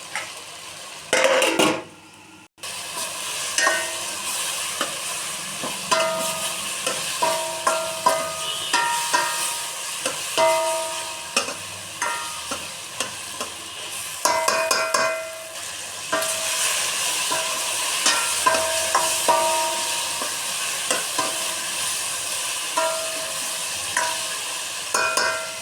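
Puri kurma simmering and sizzling in a pan, stirred with a spoon that scrapes and taps against the metal in frequent irregular strokes, close and steady with no talk.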